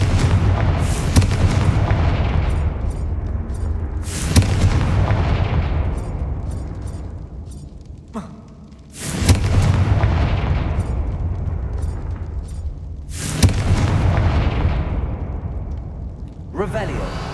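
Fiery Confringo spell blasts from Hogwarts Legacy, five or six heavy booming explosions spaced a few seconds apart, each with a long rumbling decay, while a voice calls out between them.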